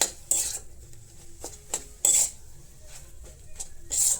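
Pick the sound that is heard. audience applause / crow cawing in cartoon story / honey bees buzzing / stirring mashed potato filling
stirring mashed potato filling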